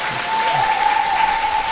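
A studio audience at a Korean political talk show gives a short burst of applause, a loud, even wash of clapping hands that carries on for the whole moment.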